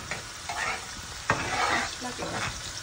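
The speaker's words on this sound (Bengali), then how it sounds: "পেঁয়াজটা একটু ভাজমু" Onion frying in a pan while being stirred, a steady sizzle broken by a few scraping strokes and one sharp knock.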